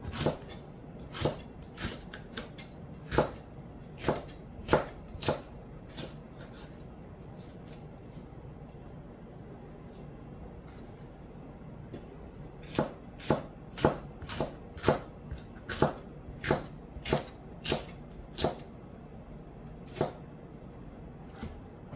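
A knife thinly slices peppers on a cutting board, giving crisp rhythmic taps, a quick run early on, a pause, then another steady run of close, distinct chops with no talking.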